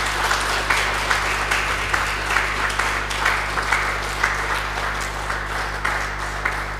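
A big round of applause from an audience after a talk, dense and sustained with a steady low hum underneath.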